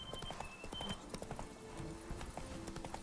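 Horse hooves clip-clop steadily in The Witcher 3: Blood and Wine, a continuous rhythmic trot of moderate loudness with faint in-game ambience and an occasional soft whinny underneath.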